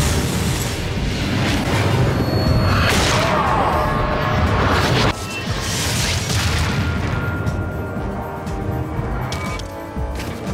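A rocket explodes in the Captain America: Super Soldier video game, a dense roaring blast layered with crashing debris and game effects, sustained and loud throughout with a second surge midway.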